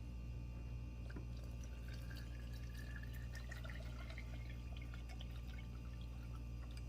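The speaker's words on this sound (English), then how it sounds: "now what I'm going to do is fill it with water" Water pours steadily into a plastic jar, a continuous quiet gurgle with faint splashes over low background hum.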